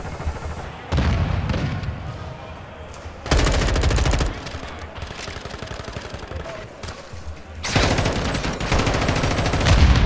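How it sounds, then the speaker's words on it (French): Automatic weapon fire in Modern Warfare 2, loud close bursts of rapid shots in several separate volleys with quieter gaps between them, a voice briefly heard among the shooting. "Mon arme a tiré toute seule!"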